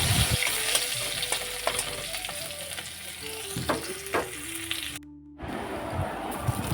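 Crushed garlic hits hot tempering oil and fries with a bright, close sizzle broken by scattered stirring clicks, ending in a sudden brief cut to silence before the frying resumes.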